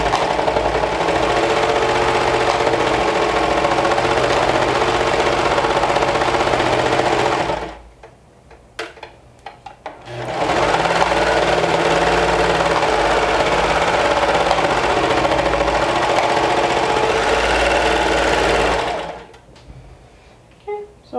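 Sewing machine stitching through several fabric layers of a dress bodice, a loud steady mechanical whir in two long runs separated by a short pause, with no talking.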